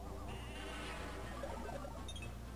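Sheep bleat from the Sheep Count attack in a tactics video game. A short, faint burst of bleating sits over steady background game music.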